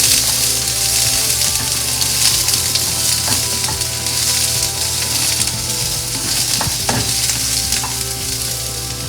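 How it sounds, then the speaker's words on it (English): Cauliflower and garlic sizzle and fry in a hot pan, a loud, steady crackle with occasional stirring clatter, no voices. "I typically like the cauliflower and garlic little roasty flavored"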